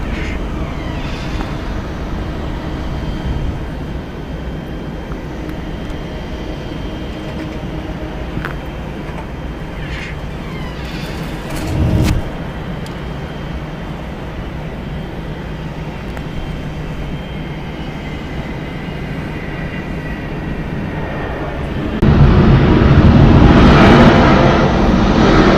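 A Delta Airlines Boeing 757-200 at Atlanta Hartsfield-Jackson airport gives a steady, distant jet roar that holds for a long stretch, with a short louder swell midway and a fuller, nearer surge of engine noise near the end.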